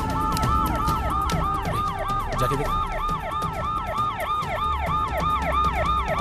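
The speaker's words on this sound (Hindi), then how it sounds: "एम्बुलेंस है भाई।" An ambulance siren wails in a rapid, repeating up-and-down pattern, loud and close over traffic rumble, while a voice speaks briefly in the middle.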